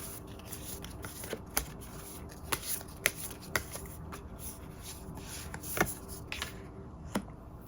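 Tarot cards shuffled by hand at close range, a quiet run of soft riffling and sharp slapping clicks at irregular intervals.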